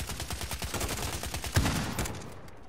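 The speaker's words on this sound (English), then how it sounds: "look, he's just shooting, bro." Call of Duty Modern Warfare gunfire, a Grau 5.56 rifle: a fast, steady rattle of close, loud automatic shots that breaks into a heavier blast and then fades out near the end, with no voices.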